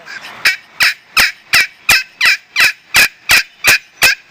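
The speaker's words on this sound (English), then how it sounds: "Sounds real good on the scratch call side." Turkey scratch call of Mississippi cherry wood gives about a dozen sharp, raspy yelps in an even, quick rhythm, close and loud with no voices.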